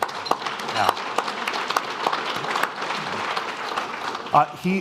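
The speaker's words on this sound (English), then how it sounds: "So let's clap." Scattered clapping rises from an audience at a spring business forum, a moderate patter of hands with a few sharper claps standing out, fairly soft and uneven, and a voice briefly speaking near the end.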